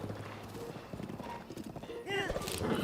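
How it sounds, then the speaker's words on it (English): Horse riding in a Zelda video game: steady hoofbeat clip-clop with a whinny, under music and a speaking voice. "And of course the fantastic horse riding music"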